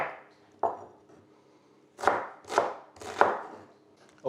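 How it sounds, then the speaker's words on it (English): A knife chops an onion finely on a board for a quiche filling, giving six or seven crisp, separate cuts in an irregular rhythm with short pauses between them, close and fairly loud, with no voices. "our first task for the filling is to chop the onion"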